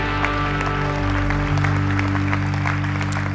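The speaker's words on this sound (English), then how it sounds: "Let's applaud our God this morning." A church congregation at a CCF worship service applauds, a dense patter of claps spreading under a steady, sustained musical drone that holds for the whole short stretch.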